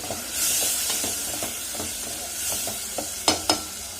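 Potatoes and loitta fish frying in hot oil, giving a steady close sizzle with soft stirring scrapes and two sharper knocks near the end.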